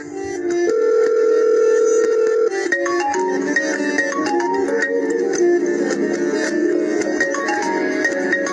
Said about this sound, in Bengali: ধরো নাও তোমার বিহান ফোন করেছে